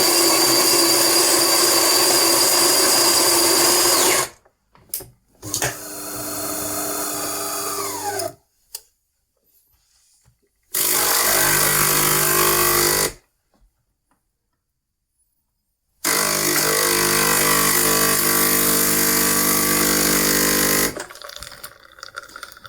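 The grinder of a DeLonghi ESAM coffee machine, set to a coarse grind, grinds coffee in three loud whirring bursts separated by silent pauses, close by and with no talking.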